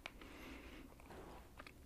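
Close, soft chewing of a tender snack from a Munchpak snack box, with faint moist mouth sounds and a few small crunchy bites, steady and intimate with no talking.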